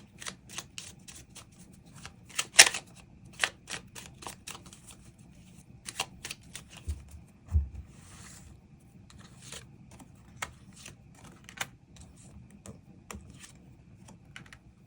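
Tarot cards are shuffled and drawn at a reading table, with crisp repeated card snaps and soft rustling in an irregular rhythm, close and moderately loud, with no talking.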